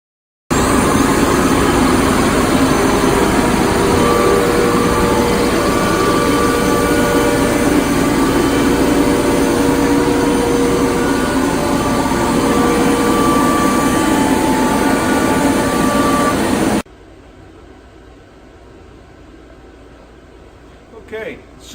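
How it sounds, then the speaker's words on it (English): WOODMILL CNC router machine cutting a VCarve project in a workshop, a loud continuous high whine and roar of the spindle that holds steady, then cuts off abruptly into quiet room tone. "so we can go out and cut it on our WOODMILL CNC Technologies machine"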